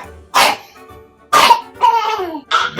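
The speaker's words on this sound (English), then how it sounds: "As you can see, the cough's still there." A sick young boy coughs in a series of sharp, close bursts: one near the start, then a cluster of two or three wet, rough coughs, the last ones tapering into a breathy rasp.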